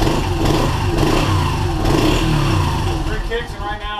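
A cold Yamaha TTR125 dirt bike engine is kicked over with the choke off, giving a loud, steady, rough mechanical churn at close range throughout, with a voice briefly heard near the end.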